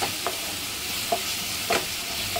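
Onion and tomato sautéing in a pan, a steady sizzle under three or four distinct scraping stirs of a spoon, close and moderately loud, without speech.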